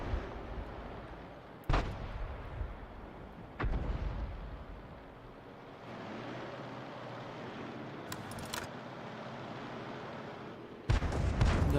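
Artillery shells boom in World of Tanks battle gameplay, with a few sharp blasts and rumbling explosions spaced seconds apart over a low continuous engine drone.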